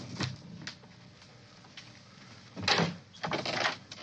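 A door opens indoors in a quiet room, with a soft click early on and a louder burst of handling and movement noise a couple of seconds later, close by and with no one speaking.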